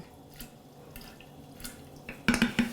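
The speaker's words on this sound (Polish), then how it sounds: "No i teraz dopełniamy wodą z cukrem." Sugar water is poured into a jar packed with nasturtium flowers and leaves. A few faint drips lead into a louder, gurgling splash of pouring near the end, with no speech.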